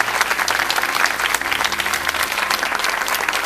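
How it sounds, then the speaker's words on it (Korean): Audience in a Korean church broadcast studio applauding steadily and fairly loudly, a dense wash of many hands clapping throughout without a break. "우리 서로에게 박수"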